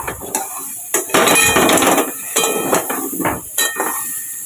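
Potatoes frying with salt and turmeric are stirred in a pan, giving irregular metallic scrapes and clinks against a constant sizzling hiss.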